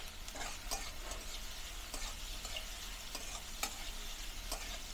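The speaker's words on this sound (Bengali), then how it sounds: "মাঝারি আছে মরিচ আর পেঁয়াজ আমি রান্না করে নিব।" Chillies and onions fry in a pan with a constant dense sizzle, punctuated by light stirring scrapes at close range.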